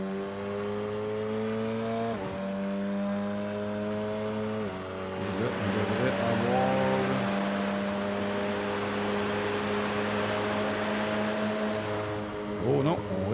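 A Radical SR race car howls around the track during a race, engine tones rising and dropping through gear changes and lifts near and loud, with a commentator talking throughout.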